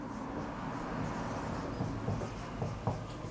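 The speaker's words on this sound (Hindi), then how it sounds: "मैं पूरे को रब कर देता हूं, यहां पे लिख देता हूं राजभाषा" Marker or chalk strokes on a classroom board during a Hindi lesson, a series of short scratchy swipes and taps, close and fairly quiet, with no talking.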